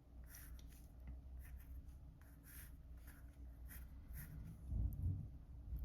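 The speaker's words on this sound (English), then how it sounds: "If we kind of draw over these lines a little darker." Pencil drawing darkly over guide lines on paper, making repeated soft scratchy strokes in short bursts, close and faint, with no talking.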